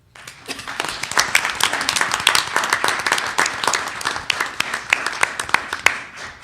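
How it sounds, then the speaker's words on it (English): Audience applause at a school district board of education meeting, a dense steady patter of many hands clapping for about six seconds, fairly loud and sustained with no talk over it. "we applaud all of you."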